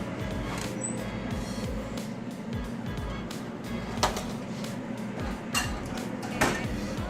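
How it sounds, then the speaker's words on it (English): A metal baking pan of cookies comes out of the oven: scattered clanks, scrapes and a few sharp metallic knocks over a low kitchen background, close by. "I'm about to pull them out of the oven"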